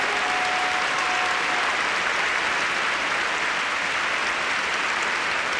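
Loud, continuous applause and cheering from an arena crowd after a figure skating performance at the 2006 Olympics, a dense sustained roar of clapping that never lets up.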